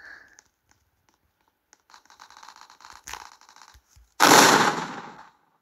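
Gunfire in a video game, with rapid bursts of automatic shots in short rattling strings, then a loud, harsh blast that fades over about a second; quiet gaps between the bursts.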